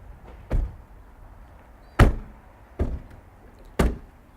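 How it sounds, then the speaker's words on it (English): Four car doors slam shut one after another outside a house, each a sharp, solid thud with irregular gaps between them, heard clearly against a quiet room. "That's 4 car doors slamming."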